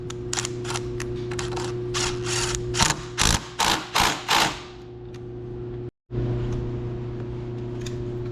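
A hand ratchet clicks while tightening bolts on a Harley-Davidson Road Glide handlebar: a steady run of quick clicks, then a few louder separate pulls, close up over a constant hum.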